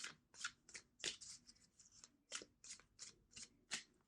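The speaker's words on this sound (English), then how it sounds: "Two more shuffles." A deck of tarot cards being shuffled by hand, a quiet series of brisk riffling bursts and soft card slaps in an uneven rhythm, close and alone with no talking.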